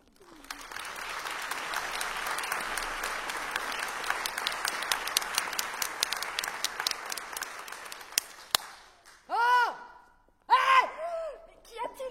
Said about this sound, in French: je vais vous demander de les applaudir vigoureusement